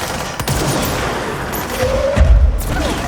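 Dense, continuous gunfire in the video game Control, with bursts and booms layered over a steady rumble, fairly loud throughout.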